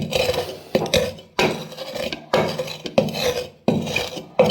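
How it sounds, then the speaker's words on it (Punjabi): Burnt black bamboo is crushed to ash on a hot iron griddle: rhythmic, gritty scraping and grinding strokes, about seven bursts with short pauses between, close and moderately loud. "ਪਹਿਲਾਂ ਤਵਾ ਗਰਮ ਕਰਕੇ ਨਾ ਉੱਪਰ ਪੀਸਣਾ ਹੈ ਚੰਗੀ ਤਰ੍ਹਾਂ ਇਹਦੀ ਰਾਖ ਬਣਾ ਲੈਣੀ ਹੈ"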